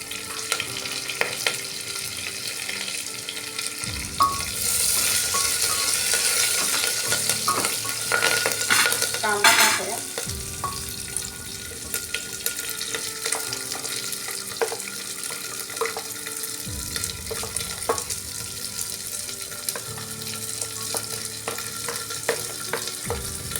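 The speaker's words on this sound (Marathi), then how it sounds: "कांदा आपण चांगला आता परतून घेऊ" Onions sauté in a hot pan of oil with green chillies, coriander and curry leaves for masala bhaat, a steady close sizzle broken by scraping stirs and a brief louder crackling burst.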